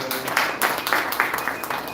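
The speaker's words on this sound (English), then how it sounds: "let's give ourselves a big round of applause" An audience at a master class claps together in a dense, even round of applause, steady and close for a couple of seconds with no pause.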